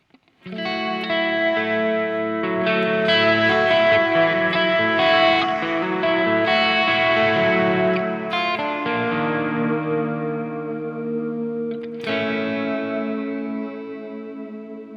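Electric guitar chords through a Walrus Audio Slö multi-texture reverb pedal ring out with a lush, washy effect, notes blurring and sustaining into a dreamy tail, with a fresh strum near the end.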